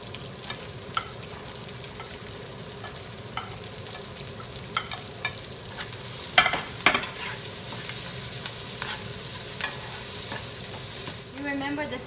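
Onion and carrots stir-frying in a pan for Filipino pansit, a continuous close sizzle with scraping stirs and a few louder clatters of the utensil partway through.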